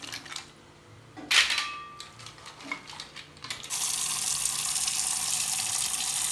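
Kozhikode mussels washed in water, first with brief clinks and splashes of shells being handled, then a steady loud rush of running water from a tap filling a vessel, close by.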